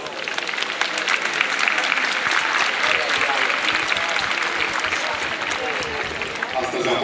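A film festival audience applauds at TIFF in Cluj, broad and sustained clapping from a large crowd that stays even in volume for the whole stretch, slightly distant in the hall.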